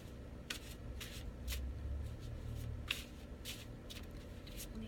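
Oracle cards, an oracle visions deck of stiff cards, being shuffled by hand in bursts of quick riffling swishes with short pauses between, close and fairly quiet over low room hum.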